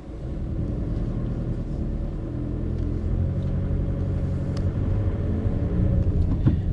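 Volkswagen Passat B8 car driving along a road, with a steady engine drone and road rumble heard continuously from inside the cabin, holding at an even level throughout.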